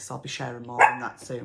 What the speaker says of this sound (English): That is the dog that I mentioned earlier